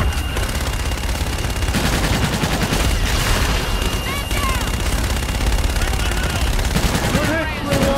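Gunfire from the Call of Duty Infinite Warfare campaign: dense, rapid automatic bursts and overlapping shots fill the scene continuously, with radio-style chatter and electronic chirps layered over the battle.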